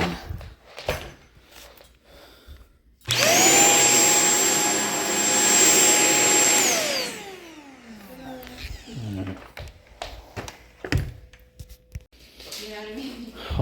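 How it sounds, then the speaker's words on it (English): A corded stick vacuum, an ultralight pet model with power fins and odor neutralizer from the HZ 700 series, switches on abruptly with a loud, steady whining roar for about three seconds, then spins down with a falling pitch into quieter background sounds. "Ultralight Pet Pro Power Fins Hair Pro Corded Stick Vacuum with Odor Neutralizer Technology HZ 700 series"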